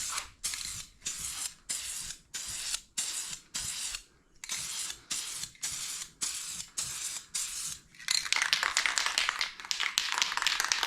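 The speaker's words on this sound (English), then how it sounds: "We're gonna spray some of this on here and see how much the sand matches the buckskin." A spray paint can spraying onto a car panel of a Stingray Corvette, a series of short hissing bursts with brief gaps between them, then one long continuous hiss at the end, close and clear, with no speech.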